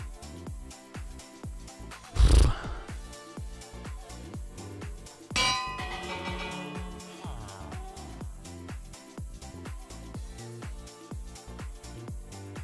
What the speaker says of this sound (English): Why ring the bell?